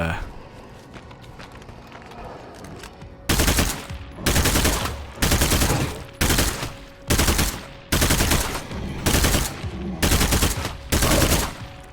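Gunfire rings out while shooting zombies in State of Decay 2: Nightmare Zone, loud bursts repeating in a steady rhythm of roughly one per second after a stretch of quieter movement.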